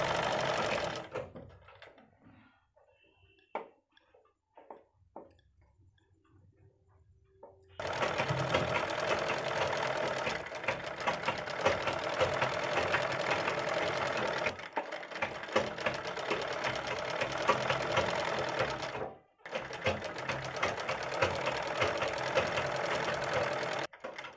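A sewing machine runs while stitching the bottom hem of a long kurti with a front slit, starting in brief stops and bursts, then running in two long steady stretches separated by a short pause.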